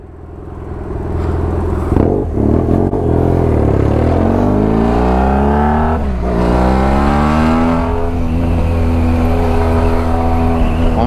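A BMW F800GS motorcycle revs hard in a favela street, its loud engine rising and falling through several throttle blips, close and sustained with no talk over it.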